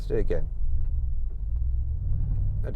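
Brabus Mercedes G63 driving, a low, steady engine rumble heard from inside the cabin with no obvious jolt at the smooth gear change, while someone talks over it at the start and end.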